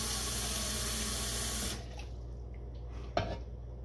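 Tap water runs steadily into a container to fill a quarter-cup measure during home baking, then cuts off abruptly, leaving a quiet room with a single small clink afterward.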